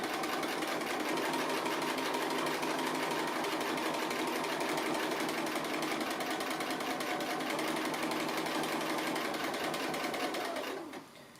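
Sewing machine stitching appliqué, a steady rapid mechanical whir running continuously and close, stopping abruptly at the end with no talk.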